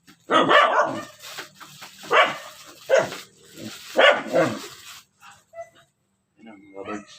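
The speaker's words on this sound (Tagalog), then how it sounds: "Ito, maraming aso dito eh." Several dogs bark around a house in overgrown, forest-like surroundings, with loud close barks in irregular bursts, then quieter yips and whimpers trailing off.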